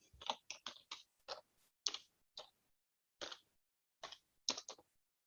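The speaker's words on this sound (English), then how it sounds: "Sorry for my typing." Quiet, irregular clicks of typing on a computer keyboard, in short bursts of a few keystrokes separated by pauses, close and soft with no talking.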